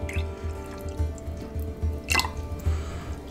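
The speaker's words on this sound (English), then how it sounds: "I think I'm going to do is add a little more broth." Broth is poured into a bowl in a home kitchen while making a green beer treat for a dog, giving a soft, steady trickle with light dripping, close by and with no talking.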